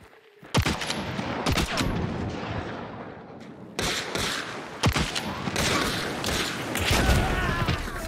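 Video game shotgun firing slugs, a series of loud, sharp blasts with short gaps between them, layered over continuous in-game battle noise.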